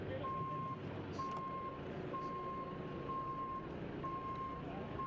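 Reversing beeps from a JCB vehicle at the MotorLand Aragon race track, five evenly spaced steady tones over about five seconds, heard clearly above a loud, constant low engine rumble and background hubbub.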